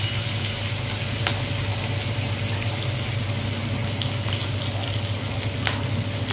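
Potatoes fry in hot oil for a potato and cabbage curry, giving a steady, close crackling sizzle throughout with a few sharper pops and no voices.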